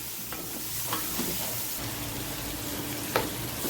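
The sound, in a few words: frying chopped tomatoes for keema karela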